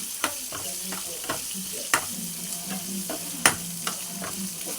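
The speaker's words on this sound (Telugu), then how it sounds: "ఇప్పుడు మనం దీంట్లోకి పచ్చిమిరకాయలు వేసుకుందాం" Whole green chillies frying in a pan for okra chutney, with a continuous sizzle punctuated by regular stirring scrapes and taps every half second or so, close up and without talk.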